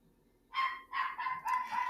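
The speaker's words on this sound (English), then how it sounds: "Reese is the 8-pound poodle. He's barking." An 8-pound poodle lets out several quick, high, yappy barks in a short burst at moderate distance, with no talking over them.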